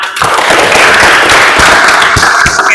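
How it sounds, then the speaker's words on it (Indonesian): A classroom group at a teacher-training session breaks into loud, dense applause that holds steady, with a few sharper claps standing out near the end. "tepuk tangan."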